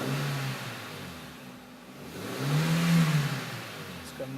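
A car engine fitted with a cold air intake idles with a breathy whoosh, then revs up briefly and settles back, heard close with no talking.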